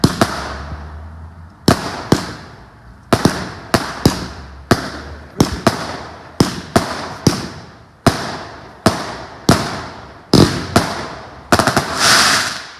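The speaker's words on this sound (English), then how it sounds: "Dr. Cool's always on them fireworks" Fireworks bursting at an outdoor celebration party at night, a rapid series of sharp, loud cracks and bangs in quick clusters, some near and some overlapping, with crackling tails and a dense final volley.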